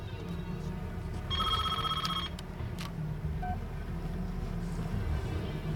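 A mobile phone rings in a short electronic trill lasting about a second, heard against a constant windy, outdoor rumble with no talk.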